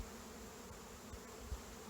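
Honey bees buzzing around an open hive during a springtime varroa mite inspection: a steady, droning hum of many bees, soft and continuous, with a faint bump or two of handling.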